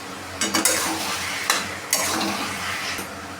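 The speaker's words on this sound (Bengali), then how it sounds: "এরপরে আমরা দিয়ে দিচ্ছি ভেজে রাখা ইলিশ মাছের মাথাগুলো।" Fried hilsa fish heads drop into a pan with chili powder and green chilies, setting off a loud, hissing sizzle with several bursts of spattering and metallic spoon scrapes close by.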